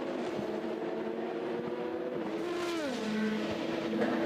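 At the 24 Hours of Le Mans, race cars in traffic roar past as a Toyota prototype overtakes the queue. Several rising and falling engine notes overlap at moderate distance, one sweeping down in pitch as it passes.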